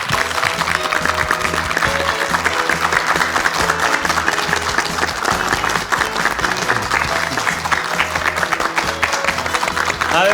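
Studio audience on a Korean morning TV talk show applauding to welcome a pediatrician guest, loud dense clapping continuing steadily for about ten seconds, with music or background sound beneath.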